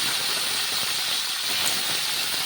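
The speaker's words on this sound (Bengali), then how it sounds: "এবার একটু নেড়ে চেড়ে ভেজে নেব।" Green beans stir-frying in hot oil for a Bengali shim posto dish, giving a steady, close, broadband hiss and sizzle with faint scraping underneath and no talk.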